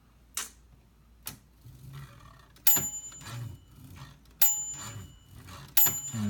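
Margin bell of a 1955 Royal Quiet Deluxe typewriter rings three bright, clear dings, each with a mechanical clunk, after a few isolated taps.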